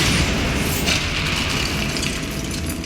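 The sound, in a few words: Bombarda explosion spell in the Hogwarts Legacy video game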